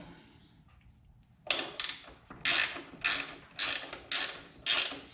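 A ratchet wrench retightening a bolt on a Cub Cadet auger: after a quiet start, six or so loud, close ratcheting strokes follow in a steady rhythm.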